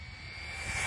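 A Typhon Grom RC car at full throttle gives a brief high-pitched electric motor whine that climbs steadily and grows louder over about a second, with no talk.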